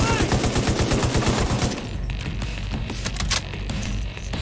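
Rapid automatic gunfire in the video game The Division 2 rattles loudly in a steady burst, then gives way to scattered shots and a busy combat din, with faint voices underneath.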